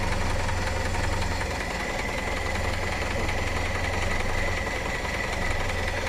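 A steady engine idles with a constant low rumble and faint mechanical knocking, droning on without change throughout.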